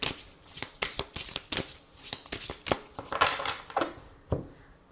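A deck of oracle cards is shuffled and cut by hand, with a quick series of crisp, riffling card slaps and flicks close to the microphone.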